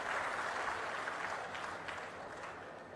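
A crowd at a public meeting in Narasannapeta claps steadily, a dense wash of applause that slowly tapers over a few seconds.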